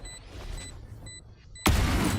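A swarm grenade going off in the Valorant shooter, a sudden loud burst of noise after a stretch of quieter game sounds and short beeps, sustained roughly half a second to the end.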